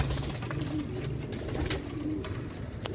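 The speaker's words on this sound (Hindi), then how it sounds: "सब कबूतर संदूरी पलकों के माशाल्लाह से" Sandoori Palak pigeons cooing in a loft, low soft repeated coos over a steady background hiss, close and moderately loud with no speech.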